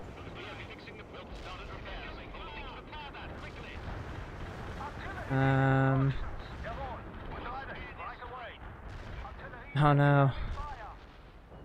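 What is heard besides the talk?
artillery shelling in video game World in Conflict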